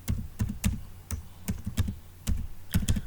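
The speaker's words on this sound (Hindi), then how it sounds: "वो पासवर्ड यहाँ पर फिर से टाइप कर देंगे" A password is typed on a computer keyboard as a quick, uneven run of close, crisp key clicks, with no voices.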